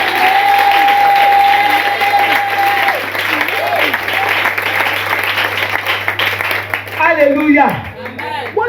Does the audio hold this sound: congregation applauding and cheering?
yes